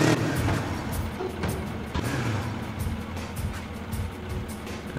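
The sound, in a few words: cart rolling away on free rotation hinge in Trials HD video game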